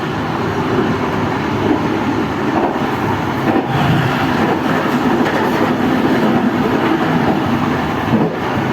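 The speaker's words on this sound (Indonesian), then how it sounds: "itu dia kereta api Pasundan KA 240 dengan lokomotif livery WNB 2 garis biru" A Pasundan KA 240 passenger train with a locomotive in blue two-stripe livery passes close by, a loud continuous rumble and rattle of wagons with rhythmic clickety-clack of wheels on rail throughout.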